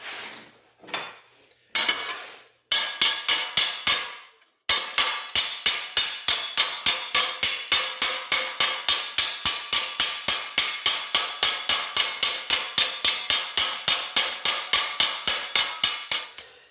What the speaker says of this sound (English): I'm going to hammer down this and just roll it around the T-dolly itself